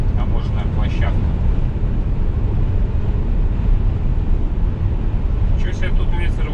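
Strong, steady wind roars across a mountain border customs area in the Alps, a continuous broadband gusting rush that fills the whole stretch without letup.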